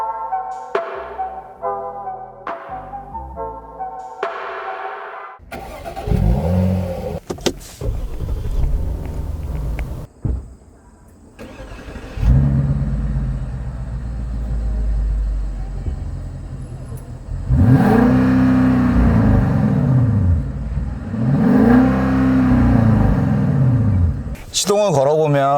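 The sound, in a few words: 2020 Genesis G90 5.0 engine starting and running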